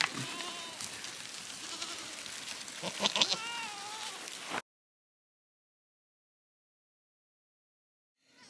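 Spanish goats bleat repeatedly, several calls overlapping close by, then the sound cuts to silence for the last few seconds.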